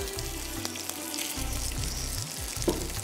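Hamburger steak frying in a little oil on a hot stove, with a steady close sizzle and crackle running throughout.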